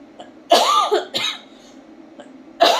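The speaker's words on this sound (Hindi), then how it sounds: "खांसी हो गई।" A few sharp, close coughs in quick succession, then a short pause and another cough, with quiet between them.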